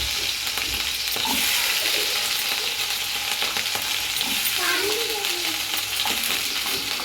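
Potato pieces frying in a pan with oil for sabudana khichdi, a continuous loud sizzle with occasional stirring sounds, close and steady, with no talk.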